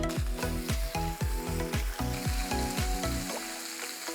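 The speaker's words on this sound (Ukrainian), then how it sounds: "А ми смажимо на сковорідці, щоб ви це просто побачили." Loud, steady sizzling of meat frying in a hot cast iron pan, with a rhythmic clanking pattern running through before it tapers into a hiss.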